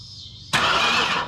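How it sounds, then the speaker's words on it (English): Car engine cranked by jumping the starter solenoid on a car with an overheating problem, silent at first, then a sudden loud, steady churn that lasts under a second before easing off. "I'm going to go ahead and start this off the starter solenoid."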